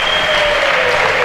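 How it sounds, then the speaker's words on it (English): Volleyball crowd in a gym gives a steady burst of applause, a dense and continuous wash of clapping from many spectators at moderate distance, with no pauses. "This crowd giving her a good hand."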